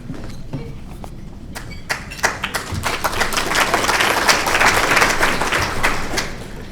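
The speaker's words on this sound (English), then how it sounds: "did you notice I got a little applause before I talked?" A lunch audience at a Hall of Fame event applauds to welcome a board representative to the podium, scattered claps at first that swell into a full, steady round of applause before tapering slightly.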